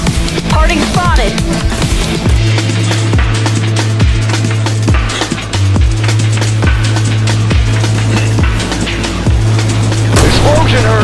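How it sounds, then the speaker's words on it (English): Explosion in the video game I Am Your Beast: heavy booming blasts and crackling debris over a steady low rumble, repeated thuds throughout, loud and dense. "Explosion heard!"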